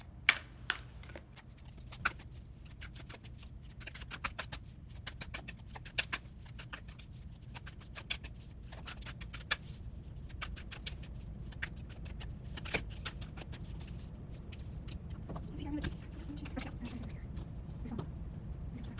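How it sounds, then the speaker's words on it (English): Tarot cards shuffled by hand, giving a steady run of soft, close riffling clicks and patters that continue without pause across the whole stretch. "I'm going to quickly shuffle for you guys"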